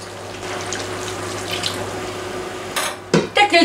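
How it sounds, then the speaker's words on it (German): Water poured from a tap or jug into a frying pan of noodles, vegetables, turmeric and dill, a steady splashing stream with a louder sizzle and clatter near the end. "Noch ein bisschen Wasser dazu."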